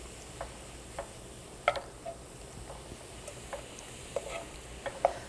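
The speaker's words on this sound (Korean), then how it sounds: "이렇게 해서 밑간한 고기를 볶고 있습니다" Seasoned meat for japchae being stir-fried in a single pan, with scattered faint ticks and light scraping of the utensil over a soft, low sizzle; no talking.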